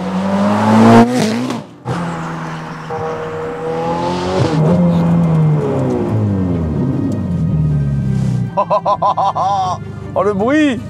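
Car engine revving hard through rising and falling gear sweeps as the tires spin and lose grip in fourth gear, with a brief pause and sharp bursts of high-pitched whine near the end, loud and close under excited talk.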